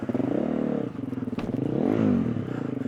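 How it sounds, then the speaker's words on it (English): A motocross bike fitted with a six-days-style bash plate thumps its underside on the ground during a track day, a single brief knock over the engine's steady, revving drone. "Hit the bottom of the bike"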